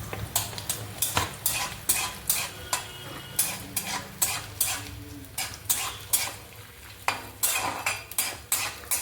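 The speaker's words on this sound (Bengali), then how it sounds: "এবার আমি এর মধ্যে নারকেল কুচানো দিয়ে দিচ্ছি।" Grated coconut stirred into a pan with whole cumin and cinnamon while making a spiced potato curry: rhythmic scraping of a utensil against the pan, repeated strokes roughly every half second over a soft sizzle, no voices.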